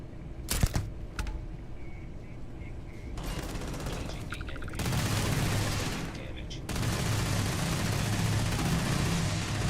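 Robots in Starfield open fire in bursts of rapid gunfire, scattered sharp shots at first, then longer sustained volleys that swell louder toward the end, with faint talk underneath.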